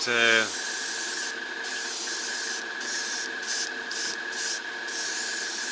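A continuous hiss of spray from an aerosol can of matte coating, sprayed under a 1:35 scale model tank, broken by brief pauses into several bursts, close and steady, with a short mechanical rattle at the start.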